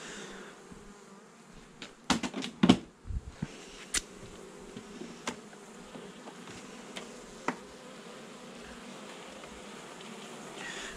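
Honey bees buzz around honeycomb at a hive during a honey harvest, giving a steady, close, droning hum with a few sharp knocks and clicks of handling near the start.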